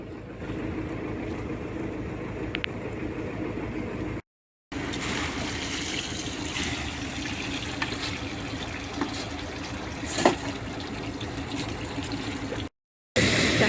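Water pours continuously into a container with a rushing, splashing sound, broken by two brief silent gaps.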